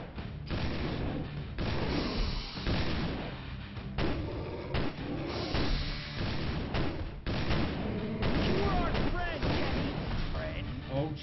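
Rapid gunfire from the survival horror video game Obscure 2, repeated bursts of shots and heavy thuds over a dense, loud game soundscape, with a voice talking intermittently.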